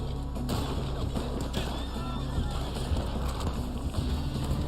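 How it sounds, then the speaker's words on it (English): Horse hooves clip-clopping in the video game Red Dead Online during a snowy blizzard, a steady run of hoofbeats under continuous game ambience and wind. "Can I even ride this horse right now?"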